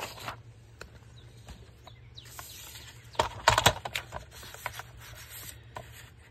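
Paper for a journal page being cut, heard as short scratchy, rasping strokes up close, with a louder cluster of cuts midway over a faint steady hum.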